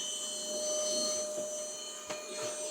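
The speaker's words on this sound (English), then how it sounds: "just get my very nifty, very handy little vacuum." A small handheld Lidl vacuum cleaner runs with a faint, steady whine close by, and a few brief scrapes and knocks break in near the end.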